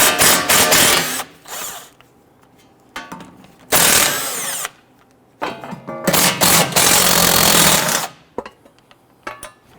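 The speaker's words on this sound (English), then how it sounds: "Use a 10mm socket to loosen and remove the bolts for the backing plate." A power driver with a 10mm socket spins off backing plate bolts on a 2011-2023 Dodge Charger steering knuckle, several loud whirring bursts separated by short pauses, each one close and harsh with a rattling ratchety edge.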